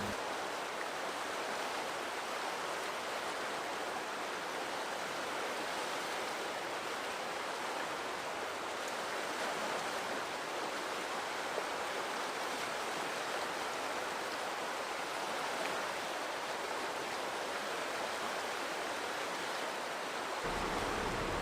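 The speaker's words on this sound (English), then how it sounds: "I can look out of my van and see and hear the river." Steady broadband rush of the Deschutes River flowing beside a high-desert campsite in central Oregon, continuous and even throughout with no other sounds and no talk.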